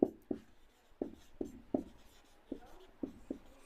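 Pen writing out a math solution on paper, a series of close, sharp scratchy strokes in an irregular rhythm with brief quiet gaps between them.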